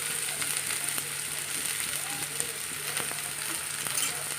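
Onion, curry leaves and chili sizzle in a small amount of hot oil in a pan, a continuous crackling fry with occasional sharp pops and light stirring clicks.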